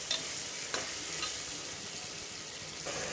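Mutton being stirred into frying onion, tomato and herbs for biryani, a continuous close sizzle with a few sharper scrapes of the spoon.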